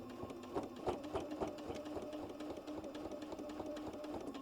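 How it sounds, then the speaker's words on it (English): A sewing machine stitches steadily along the edge of a pocket flap, its needle ticking in a rapid, even rhythm close to the microphone with no voices. "Now I'm just going to gently sew along that little edge there."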